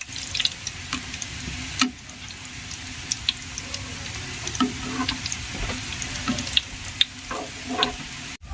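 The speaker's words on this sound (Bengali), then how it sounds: "আর গ্যাসের ফ্লেমটা লো ফ্লেমে রেখেই পিঠাগুলোকে ভেজে নিতে হবে।" Pithas, rice cakes, frying in oil in a pan over a low flame, a steady soft sizzle with occasional faint clinks and scrapes, heard alone without talk.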